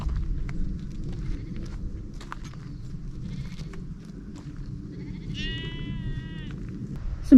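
Sheep in the Brecon Beacons, one clear drawn-out bleat rising above a low outdoor rumble with faint scattered noises, heard late in the clip.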